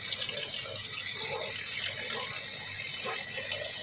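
Running tap water pours steadily over bitter gourd (ampalaya) as it is washed, a constant close hiss with faint splashes and no talk.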